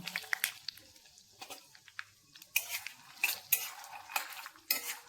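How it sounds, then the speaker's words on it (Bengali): Peanuts frying in hot oil in a kadai: irregular metallic scrapes and clanks of stirring over a faint sizzle, some strokes sharper than others. "কড়াই আমার তেল গরম হয়ে গেছে, এবার আমি বাদামগুলো আগে ভেজে নেব।"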